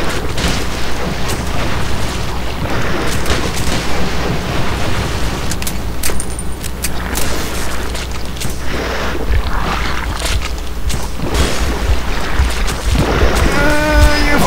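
Explosions from bombing creatures in the video game Metro 2033, a dense, continuous roar of booms and rumbling blasts, loud throughout with no clear gaps.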